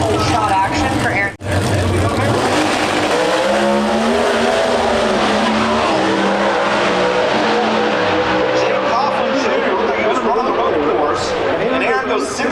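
Pro Stock drag cars at the NHRA Route 66 Nationals in Chicago roar loudly off the line and howl through rapid gear changes, with tire noise and a continuous wall of engine sound throughout.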